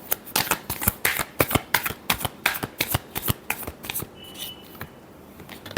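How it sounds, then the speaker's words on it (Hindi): A deck of tarot cards is riffled in a rapid series of crisp, close flutters for about four seconds, then the shuffling stops and only faint handling noise remains. "Last shuffle."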